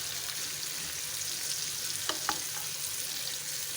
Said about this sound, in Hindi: तेज़ आग पे इसको हम तलते रहेंगे।